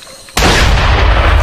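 Gunfire in a Rambo action film: a sudden loud boom at about a third of a second, followed by a sustained, dense roar that carries on to the end.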